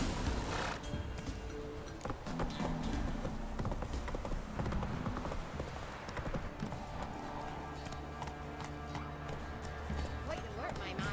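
Roach, Geralt's horse in The Witcher 3 on Nintendo Switch, trots with steady rhythmic clip-clopping hooves under game music, with spoken voices over it.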